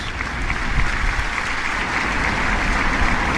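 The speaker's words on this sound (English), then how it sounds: "Give yourself a round of applause" A round of applause from a group of people gathered outdoors in Newcastle, steady dense clapping held at an even level throughout.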